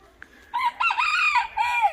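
A rooster crows loudly and close by, one long rising and falling call, next to a hostel in Hot Springs, North Carolina.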